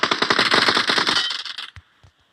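Rapid bursts of PUBG Mobile machine-gun fire, loud and dense, cut off abruptly and followed by two isolated single shots.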